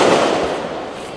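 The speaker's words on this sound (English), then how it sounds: "some people firing off their own fireworks." Fireworks set off by people near the U.S. Marine Corps Memorial in Washington, D.C., during July, heard as a steady, dense crackling rumble that slowly fades, with no one talking.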